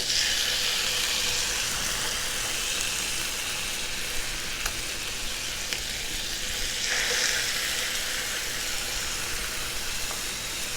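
Hoisin-glazed chicken thighs sizzling skin side down in a hot pan, a loud continuous close hiss and crackle that stays steady throughout with no talking.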